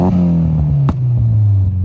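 A 1992 Nissan 240SX's single fat-tipped, dented exhaust revs loudly up close, a deep droning note that cuts out with a sharp pop, then drops and settles back into a steady throaty idle.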